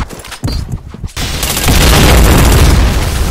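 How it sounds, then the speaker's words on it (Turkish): A loud blast and rolling booms from a thrown grenade in the shooter Point Blank, erupting after brief quieter shots and swelling into sustained rumbling gunfire. "Emin bomba atıyor."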